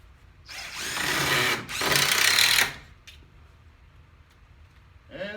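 A power drill drives screws into jack studs while a wall is framed, two sustained whirring bursts close together and then quiet, with brief speech at the end.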